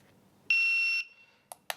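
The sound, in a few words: CED7000 shot timer start beep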